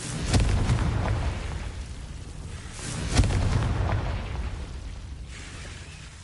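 Two booming blasts from the Confringo spell in Hogwarts Legacy, each a sharp burst followed by a rolling rumble, fairly loud and close.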